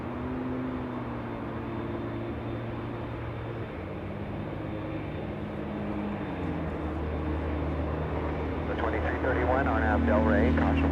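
An airliner at Los Angeles International Airport, a steady broad jet roar with low droning tones that swells louder toward the end, heard alongside ongoing talk and radio chatter.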